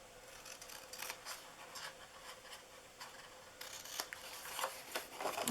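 Scissors snip into the flaps of a paper retro Christmas gift box, a string of quiet, crisp cuts close by with small rustles of the paper between them and no talking.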